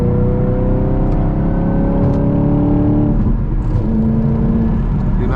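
A Chevrolet Camaro SS 1LE accelerates hard from inside the cabin, its engine note climbing steadily then dropping at a gearshift before rising again, a loud continuous roar with no talk.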